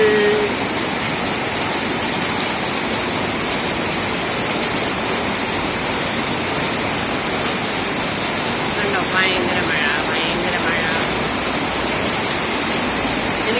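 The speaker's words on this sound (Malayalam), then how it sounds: "ഭയങ്കര മഴയൊന്നുമില്ല" Steady, heavy summer rain in Kerala pours down continuously, a dense hiss with no breaks and no voices.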